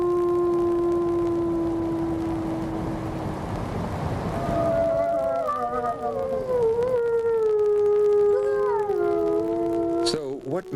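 People in the Minnesota wilderness howl to imitate wolves, one long steady voice followed by several overlapping wavering howls rising and falling together, loud and close, ending with a brief clatter.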